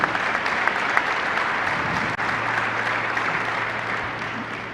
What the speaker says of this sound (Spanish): vale un aplauso, sí.